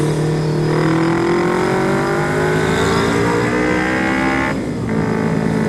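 Large trucks roll past on a road, giving a loud, continuous engine drone with shifting, rising tones and a brief dip near the end, with no talking.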